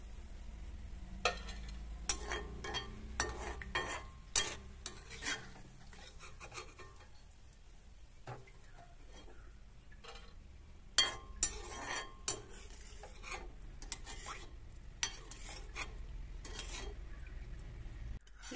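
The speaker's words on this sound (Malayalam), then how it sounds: "ഈ പൊരിഞ്ഞു വരുന്ന സമയത്ത് മീഡിയം ഫ്ലെയിമിലാക്കിയിട്ട് പൊരിച്ചെടുക്കാം." Ginger fries in oil on a medium flame for Kerala-style puli inji, a soft steady sizzle broken by scattered clinks and scrapes of a stirring spoon against the pan.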